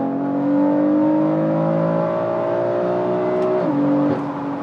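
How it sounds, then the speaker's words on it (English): BMW F80 M3 with 200-cell downpipes and a full Valvetronic equal-length F8x catback exhaust, heard from inside the cabin: a steady loud engine drone that holds on one pitch, then drops sharply near the end as the revs fall. "Inside the car now, 200 cell downpipes, and then the full Valvetronic equal length F8x system."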